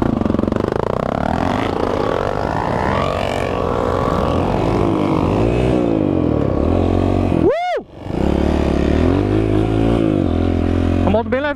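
A Honda CRF 230 trail motorcycle rides along a dirt trail, its engine droning steadily up close with rising and falling revs and a brief sharp dip near the end, while someone talks over it.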